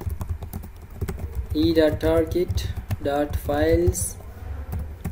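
Keys clatter in quick, uneven bursts as code is typed on a computer keyboard, with someone talking steadily over the clicking throughout.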